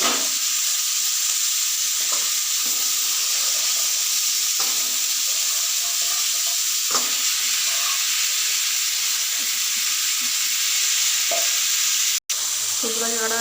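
Large dried stalks frying in hot oil until they turn red, giving a steady, close, continuous sizzle and hiss with occasional stirring scrapes and one sharp click near the end.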